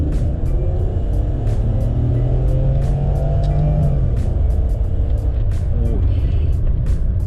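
A BMW E36 323i automatic's engine revs up steadily as it accelerates in second gear, its droning pitch climbing for several seconds under continuous road rumble.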